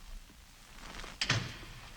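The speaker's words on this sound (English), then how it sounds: "Benji heard the door slam" A door slams shut inside a house, a single sharp thud that rises briefly out of a low, quiet room background.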